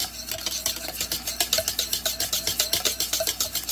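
A spoon stirs lemon juice into a pear and ginger pie mixture in a bowl, making a brisk, steady rhythm of wet scraping strokes, close and clear, with no talking.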